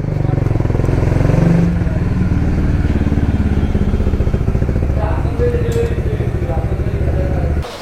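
A Honda motorcycle ridden into a busy bike service centre, its engine running steadily and loud up close, with a brief rev and clatter near the start, and voices underneath.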